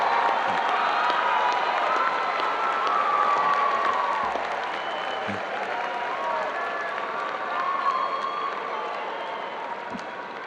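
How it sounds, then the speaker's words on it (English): A large audience at a university commencement applauds and cheers in a sustained wave of clapping and whoops that slowly tapers off, with scattered voices in the crowd. "And give them a big round of applause."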